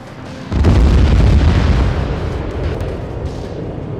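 Cluster munitions going off in Arma 3, a heavy rumbling burst of overlapping explosions that swells loud after half a second and then rolls on as a long low roar with no voices.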